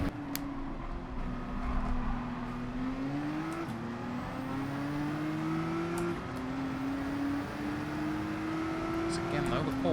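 Race car engines in Gran Turismo 7 whine steadily at high revs, pitch climbing through gear shifts as cars run side by side with a Porsche in a manufacturer series race, with talk heard over the engines.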